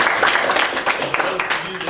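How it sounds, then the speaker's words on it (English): A round of applause in a city council work session, steady scattered clapping filling the room throughout the moment with a voice talking over it. "we'll give you a round of applause."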